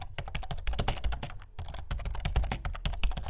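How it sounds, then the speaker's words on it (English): Rapid, steady typing on a computer keyboard, continuous close key clatter with no voices. "Then you go to search and type YouTube dashboard."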